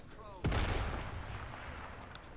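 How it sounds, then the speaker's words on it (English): A grenade blast in the video game Atomfall: one sudden loud boom with a rumbling tail that fades over about two seconds, over a steady game background. "Grenade!"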